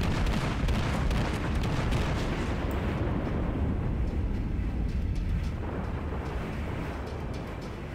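A Japanese Fuso battleship in the World of Warships video game unleashes a heavy gun salvo, a dense roaring boom that slowly rolls off over several seconds, loud and near with no voices.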